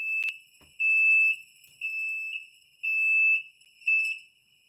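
Processed train beep with a thin, tinny effect, sounding as a high repeated tone in five pulses of uneven length, close and clear against silence.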